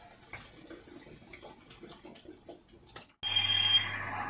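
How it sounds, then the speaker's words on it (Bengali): Water pours into a cooking pan of well-sautéed banana flower. After about three seconds of quiet, faint stirring clicks, a loud steady rush of pouring water starts suddenly and carries on to the end. "আমি এবার এর মধ্যে দেব একটু জল।"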